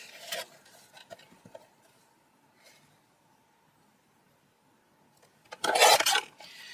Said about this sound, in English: we are going to line up that mark and that top corner into our trimmer and cut